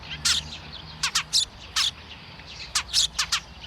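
Tree sparrows calling beside a nest inside a metal pipe, giving a dozen or so sharp, bright chirps in uneven bursts, close and clear over a low background hum.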